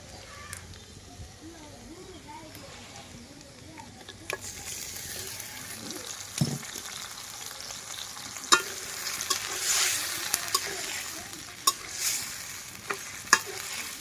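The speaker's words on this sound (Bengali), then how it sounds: "এখন হচ্ছে চিকেনটাকে কিছুক্ষণ ভেজে নেব বা মশলার সাথে ভালোভাবে কষিয়ে নিব" Marinated chicken fries with spices in a pan in a village kitchen, a soft sizzle that grows louder midway, punctuated by sharp spoon scrapes and knocks against the pan.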